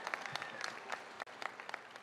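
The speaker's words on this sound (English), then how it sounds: "Let's give her a big round of applause." Audience applause at a Southern University at Shreveport commencement ceremony, dense sustained clapping from a large crowd over two seconds, with no talk.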